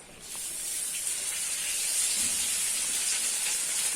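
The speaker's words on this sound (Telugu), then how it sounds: "చేపలు ఫ్రై చేస్తున్నాను నేను. ఇది ఆయిల్లో వేస్తున్నాను" Pieces of fish drop into hot oil and fry with a loud, continuous hiss and bubbling sizzle that starts suddenly and holds steady, close by.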